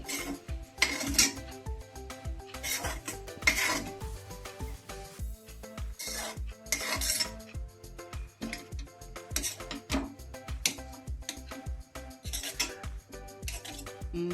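A spoon scrapes and clanks against a pan while banana-flower thoran is stirred, in repeated strokes about a second apart. A steady rhythmic backing with tonal notes runs underneath.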